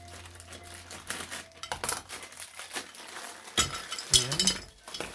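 Plastic packaging around five rubber office chair casters being cut open and handled, with faint crinkling, clinking and rustling bursts up close, a few sharper snips near the end.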